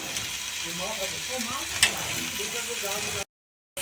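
Chopped onion and grated ginger fry in a pan, a soft continuous sizzle with light scraping and clinking of a utensil, someone speaking over it, before cutting off abruptly.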